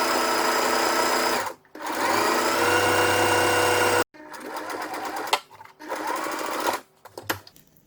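A sewing machine stitching Coolaroo shade sail fabric for a pergola canopy, running in loud, fast continuous bursts with brief pauses between seams, close up with no talk.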